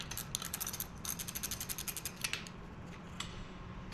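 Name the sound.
tightening nuts with a 7/16 wrench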